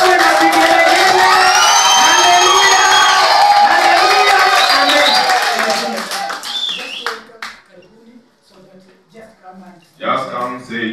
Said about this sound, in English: Let us make a hand clap as we welcome our wageni.